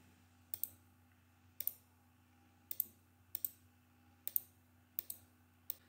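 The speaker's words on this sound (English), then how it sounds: "I can left click the line or box select lines." Mouse clicks in garment CAD software for drafting women's jeans patterns: seven crisp, close single and double clicks spaced irregularly over a quiet background hum, with no talking.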